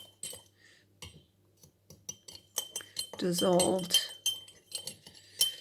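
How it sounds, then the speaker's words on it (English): Metal spoon stirring salt into water in a glass, clinking and scraping against the sides in quick irregular taps, close and fairly quiet, with a person speaking over it. "Okay, so I'm going to stir"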